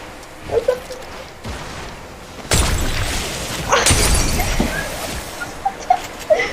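A grenade explodes in a video game, with sharp shattering booms and a crackling burst of debris. After a quieter stretch, a second loud blast follows and fades into a low rumble.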